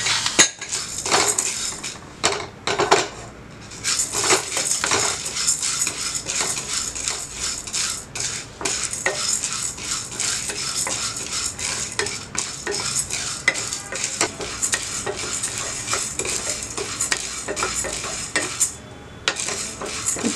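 Chana dal and toor dal dry-roasting for rasam powder in a pan, with a spoon scraping and clinking against the metal as the lentils are stirred steadily and close up for the full stretch, with no talk.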